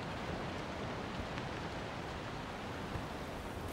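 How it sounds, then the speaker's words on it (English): Cold rain pours steadily over a bleak rocky island on Brazil's coast, a constant soft hiss of falling drops with no breaks, fairly quiet and heard alone. "The cold rain transforms the island into a bleak,"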